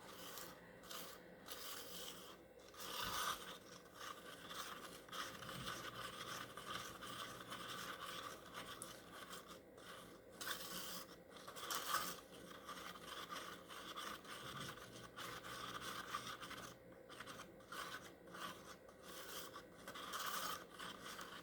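Bond Crafter casting powder is stirred and mixed in a container, giving soft, uneven scraping and rubbing sounds with brief pauses, close and fairly quiet, with no talk.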